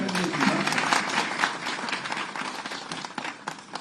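Sustained crowd applause at a public inauguration ceremony of a religious trusts and endowments directorate office in Ujjain, steady dense clapping throughout with a murmur of voices underneath.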